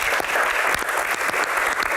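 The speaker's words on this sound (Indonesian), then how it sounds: "Tepuk tangan." Steady, dense applause from an audience at an Indonesian parliamentary Q&A segment on the Hajj, continuous and fairly loud throughout without speech.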